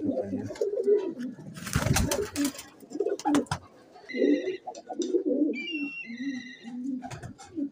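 Teddy Golden pigeons in a Lahore setup coo in low, repeated throaty phrases close by, with a few faint higher chirps breaking in between.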